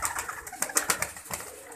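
Soft pigeon cooing mixed with bird chatter, a few brief pulsing calls close by over a light background of rustling and other birds.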